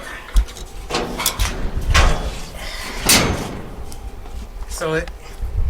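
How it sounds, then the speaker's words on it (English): The flop-down door of an electric car thumps and clatters shut while someone talks close by, with a sharp slam near the start and a few softer mechanical knocks after it. "So here's the flop down door."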